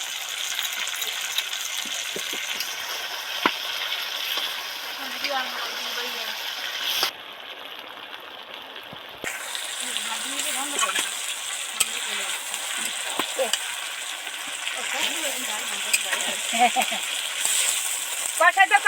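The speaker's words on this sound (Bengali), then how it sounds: "টক দইটা তেলের মধ্যে দিয়ে দিচ্ছি" Sour yogurt hits hot oil for a mutton curry, setting off a loud, steady crackling sizzle that dips briefly partway through before surging back, with occasional stirring clatter.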